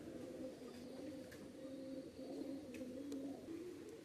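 Pigeons coo continuously in a low, steady drone, quiet and somewhat distant, with no voices over them.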